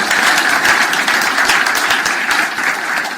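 A church congregation applauds, dense steady clapping from a crowd filling the room throughout, with no talk over it.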